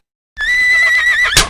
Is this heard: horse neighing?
yes